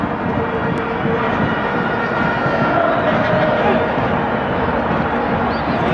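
Broad, steady roar of a big football stadium crowd at an Orlando Pirates versus Bloemfontein Celtics Telkom Knockout Cup match, a continuous dense wash of cheering and chatter with no pauses.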